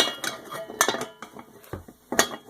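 Cast iron deep skillets clank and knock against each other as they are handled and set aside, several sharp metallic hits in an irregular rhythm, close up and moderately loud.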